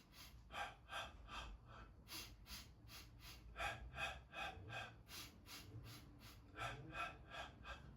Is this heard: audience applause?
no